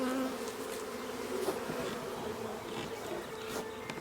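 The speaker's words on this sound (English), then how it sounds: "If this hive is one of my swarms, this is number 12." A honey bee swarm drones steadily at its hive, a dense continuous buzz with individual bees passing close now and then, with no talking.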